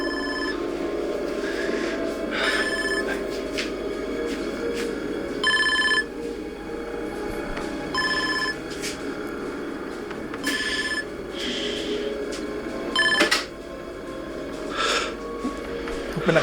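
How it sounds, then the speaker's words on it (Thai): A telephone rings repeatedly in a hotel room during a power cut, its bright electronic trills coming in regular bursts over a steady background hum, with faint breathing and no clear talking. "แค่โทรศัพท์เอง"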